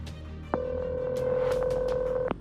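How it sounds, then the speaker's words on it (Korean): A car phone handset gives a short click, then one steady electronic tone held for about two seconds and ending in another click. It sounds quiet and close, with no talk. "에런은 곧 차 안에 비치되어 있던 수화기를 들어 전화번호를 입력한 뒤 기다렸습니다."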